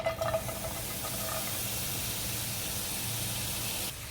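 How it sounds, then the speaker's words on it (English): A steady close sizzle and hiss of garlic frying in hot olive oil, with a few faint clinks at the start. "We'll be frying our garlic at this point."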